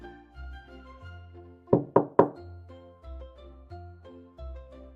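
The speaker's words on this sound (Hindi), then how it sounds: "रात के होते वो फिर एक झोपड़ी पर पहुंची और दस्तक दी।" Three sharp knocks on the door of a hut, loud and close, rapped in quick succession over a soft sustained musical backdrop.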